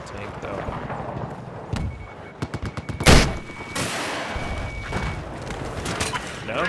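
Rapid bursts of gunfire from the Battlefield video game, a quick run of sharp shots followed by a loud close blast and further scattered fire, with a player talking over the action.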